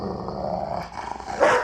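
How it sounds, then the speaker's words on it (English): A dog growling low and close, a rough throaty rumble broken by short breathy pants and a brief sharper huff near the end, with no people talking. "Her microphone picked up the sound of your dog panting."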